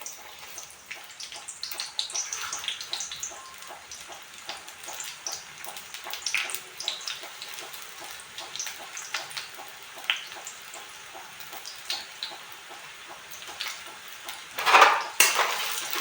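Two chopped onions frying in bubbling hot oil for an okra (bhindi) sabzi, a steady close crackle and hiss with frequent metal utensil clinks and stirring scrapes, no talking.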